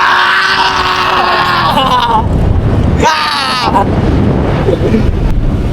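Strong wind roars against the microphone in continuous gusts, with brief voices shouting over the rushing noise.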